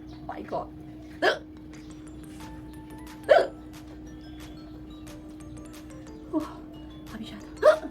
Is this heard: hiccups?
yes